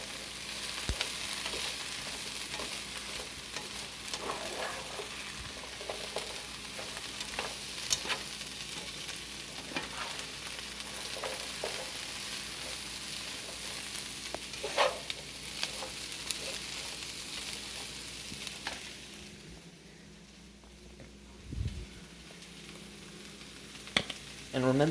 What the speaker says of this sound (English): Want to stir in the cabbage before adding in the garlic.